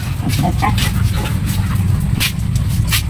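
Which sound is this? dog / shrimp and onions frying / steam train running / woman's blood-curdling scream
dog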